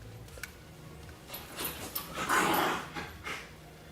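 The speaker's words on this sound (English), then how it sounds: "Our little dog Romeo in the background sounds like Gollum right now" A small pet dog named Romeo makes low, throaty snarling and panting noises in the background, swelling briefly louder in the middle before fading back down.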